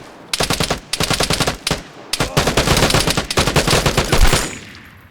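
Full-auto sniper rifle fire in the online shooter VIGOR, loud and close, in long rapid bursts broken by short pauses, ending in a sustained volley.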